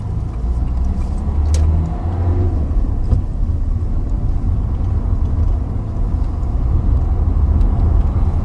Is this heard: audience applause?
no